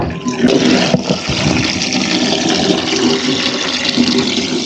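Water gushes steadily from a tap, a loud continuous splashing rush that fills the whole stretch without a break.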